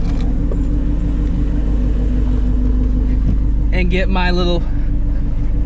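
Stock-sounding Shelby GT350 fitted with catless long tube headers idles with a steady, loud low rumble throughout while someone talks over it.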